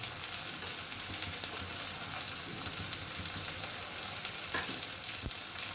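Ginger garlic paste, coriander and chili powder fry with tomato in a pan for a rohu fish head dish. Constant close sizzling hiss with faint stirring scrapes underneath and no voices over it.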